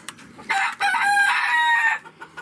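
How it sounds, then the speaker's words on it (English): A rooster in a farm pen crows loudly and close by in one long drawn-out call, with brief clucks from chickens before and after. "Really loud chickens."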